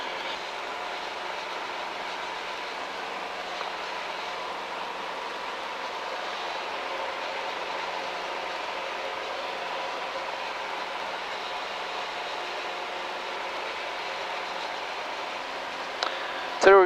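A steady, loud drone of a small propeller aircraft climbing after takeoff with gear and flaps retracted. The engine hum is constant throughout, heard from inside the cabin, with a brief clunk near the end.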